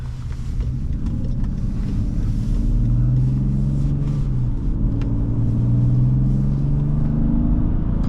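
A 2010 BMW 535i xDrive accelerating hard from a standstill to 60 mph, a steady, muffled engine rumble rising in pitch as it pulls, heard continuously and fairly loud from inside the quiet cabin with some wind noise.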